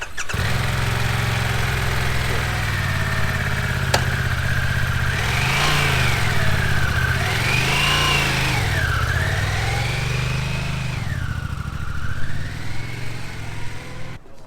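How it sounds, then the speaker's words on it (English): Harley-Davidson motorcycle cold start, the engine catching and settling into a loud, steady idle with several rising and falling revs midway, heard alone and close by. "We get a cold start on this one."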